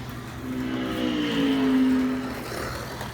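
A Scalextric slot car modelled on the Batmobile from The Batman drifts around a track, its small electric motor giving a steady whining hum that swells and fades as it slides through a bend, with no voices.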